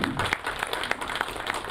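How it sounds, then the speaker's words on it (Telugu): A crowd claps in brief applause at a movie poster launch event, with a dense patter of hands close by and no voices. "ఒక్కసారి చప్పట్లు కొట్టండి సార్ అందరికి"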